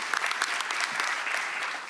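Applause from an audience at a college commencement ceremony for business and engineering graduates, a full, even burst of many hands clapping, fairly loud and continuous.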